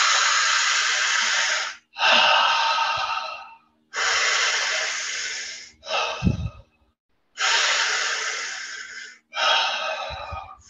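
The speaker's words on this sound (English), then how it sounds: "the idea here is to make the beginning of our breath go right to the belly, filling it up like a balloon, and then the chest." Deep belly breathing, slow and close, with long hissing inhales and exhales in regular cycles, each a few seconds long and split by short pauses.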